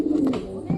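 Pigeons in a coop give soft, throaty coos, one rolling call followed by a shorter low coo near the end, close and fairly loud.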